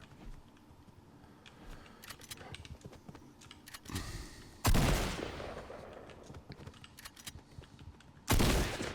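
Sharp gunshots ring out in Fortnite, with two loud bursts standing out above a scatter of quieter clicks and taps.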